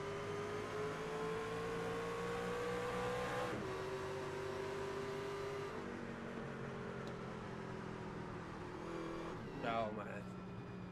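Race car engines at Darlington in the iRacing sim roar steadily in an onboard view, a sustained tone that shifts pitch with each gear change and a rising rev near the end, with commentators talking over it.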